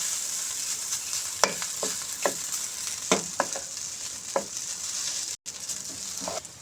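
Chinese fried rice stirred in a hot pan: a constant close sizzle broken by several sharp spatula scrapes and clinks at irregular intervals, with a brief dropout near the end and no speech.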